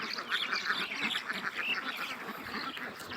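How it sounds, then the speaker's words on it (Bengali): Three Khaki Campbell ducks on a farm quack in a busy, overlapping chatter while feeding, their nasal calls fairly soft and continuous with no voices over them. "এখানে দেখতে পাচ্ছি যে তিনটা হাঁস খাবার খাচ্ছে।"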